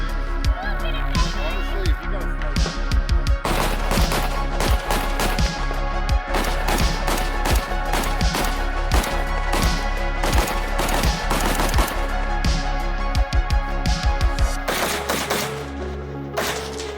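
Rapid gunfire from a 5.56 AK-pattern rifle at an outdoor carbine match, with many fast sharp shots in quick strings over steady background noise, then a short pause and more shots near the end.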